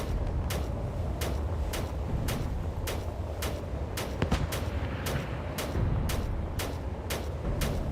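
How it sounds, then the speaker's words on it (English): A field cannon in the Space Engineers video game fires a steady series of sharp, evenly spaced shots, about a dozen in eight seconds, moderately distant over a low rumbling background. "The field cannon is firing way over here."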